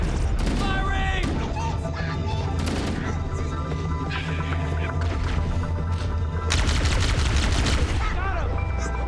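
Rapid bursts of automatic gunfire in Halo: Combat Evolved Anniversary, continuous and loud, with explosions and a sharp crash, while voices call out over the shooting.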